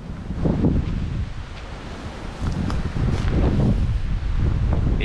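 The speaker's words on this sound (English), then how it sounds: "It's windy, but it's nice." Strong wind buffets the microphone at an outback campsite in Australia's Goldfields, a steady roar with gusty swells, loud and close, with no voices.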